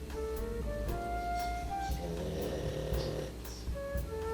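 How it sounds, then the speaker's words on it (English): A pet dog snoring in the background, slow breathy snores running under a layer of music and household noise. "please excuse all the snoring in the background"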